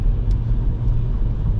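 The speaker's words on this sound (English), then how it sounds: "So this truck is going to cut off everyone." A truck passes in road traffic at night, heard from inside a car during a driving lesson as a steady, loud, low engine and road rumble with no talking.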